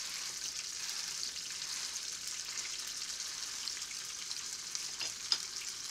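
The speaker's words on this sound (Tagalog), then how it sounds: "nagluluto ako ng hamburger." A hamburger patty fries in a pan, making a continuous bright crackle and hiss close by, fairly steady with small pops and one sharp spit near the end.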